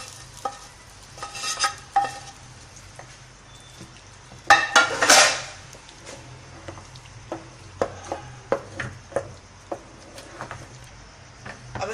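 Chicken and spices being stirred in a pot for haleem, with a soft background sizzle and a series of clattering spoon scrapes and knocks against the pot, some heavier strokes in the middle, close and without talk.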